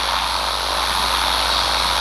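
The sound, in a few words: Cessna 172 propeller engine in GeoFS flight simulator video game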